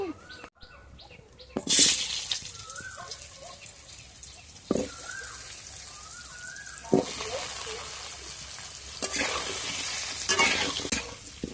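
Close sizzling of potatoes frying with turmeric in oil in a karahi, punctuated by several sharp scraping stirs and clatters of a utensil against the pan.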